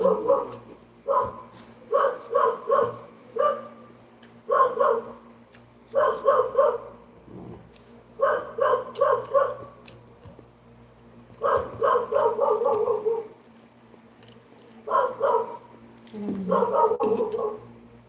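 A dog barks repeatedly at close range in clusters of sharp barks with short pauses between them. A steady low hum sits underneath, and faint voices are heard now and then.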